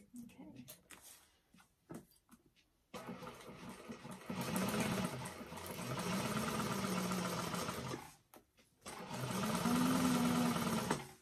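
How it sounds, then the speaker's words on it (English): A sewing machine stitches the bottom seam of a fabric bag in bursts, its rapid mechanical whirring starting and stopping several times, with short pauses and brief quiet sounds between runs. "So sew that bottom piece on."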